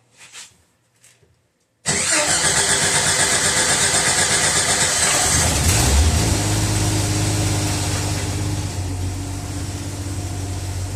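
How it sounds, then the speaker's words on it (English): A Jeep YJ engine cranks and catches after a few faint clicks, then settles into a steady, loud idle that runs on without talk. "if I did things right, it should start up"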